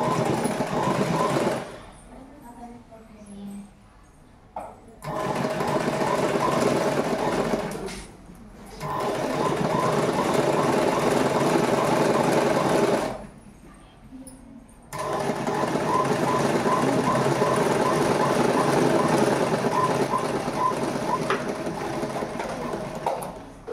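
Sewing machine stitching the seam of a uniform nicker, three long bursts of rapid, steady mechanical whirring separated by short pauses, close and loud with no talk.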